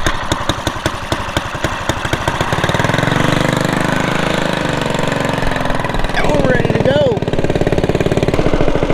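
A boat's outboard engine is pulled into life with rapid chugging pulses, then settles into a loud, steady running drone with a brief revving warble, heard close up on a Texas creek.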